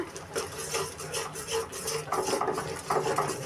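Chicken with ginger-garlic paste and turmeric being stirred in a pan with a spoon, steady scraping and clinking strokes close by, no talk.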